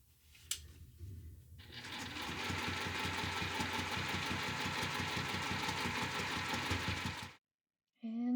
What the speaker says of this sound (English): We're going to take it over to the machine and sew it from this side, the front side, right in the ditch where we sewed it on.